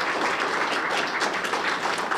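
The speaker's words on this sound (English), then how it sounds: "let's give her a round of applause" A civic audience applauds at a city government event on a home rule petition for a transfer tax, a steady, dense patter of many hands clapping at a moderate distance throughout.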